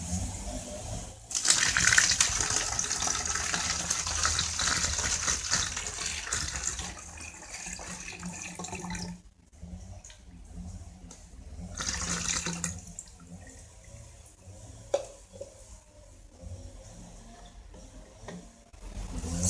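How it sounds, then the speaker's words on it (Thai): Rice-washing water for a homemade microbial fertilizer poured into a container: a strong gushing, splashing pour that eases off, stops briefly, then resumes as a lighter trickle, with a small knock near the end. "คราวนี้เราก็จะใส่น้ำซาวข้าวนี้ลงไปครับ"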